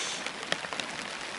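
Rain falls on a hammock tarp at a wilderness campsite during a canoe trip in the Boundary Waters. It gives a close, steady patter, with a few louder individual drops striking the fabric.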